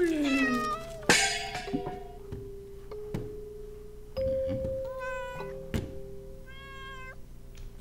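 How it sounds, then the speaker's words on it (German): A cat meows repeatedly inside the horror video game Layers of Fear. Several clear meows come over a low, steady hum and sparse thuds, at a moderate level and with no one talking over them. "Ich habe eine Katze, die macht genauso"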